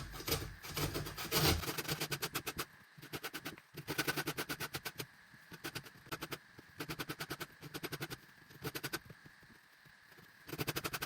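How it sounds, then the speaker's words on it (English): Orange zest is grated off the fruit in quick bursts of scratchy rasping strokes, several rhythmic runs separated by short pauses, close and fairly quiet. "So once you've grated all your orange zest"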